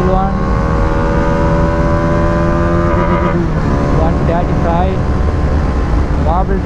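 Bajaj Dominar 400 motorcycle pulling hard in third gear, heard from onboard: a loud, steady engine drone whose pitch climbs and sweeps as it revs, with wind noise underneath.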